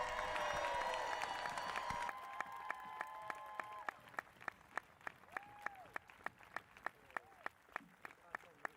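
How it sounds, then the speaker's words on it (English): Applause and cheering from an arena crowd at a CrossFit-style fitness competition, loud and dense for about two seconds, then thinning to scattered claps and whoops under a ringing public-address voice. "put your hands together for this year's Lazar Jukic MVP Award here at Wodapalooza, Justin Medeiros."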